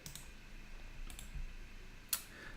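Faint mouse clicks while working in a website editor, a few soft isolated taps with one sharper click near the end over low room hiss.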